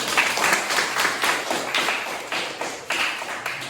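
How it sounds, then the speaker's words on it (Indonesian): A group claps together in a classroom during a teacher's trial lesson, a dense, steady round of applause lasting a few seconds with no talking over it. "kasih aplaus dulu supaya semangat"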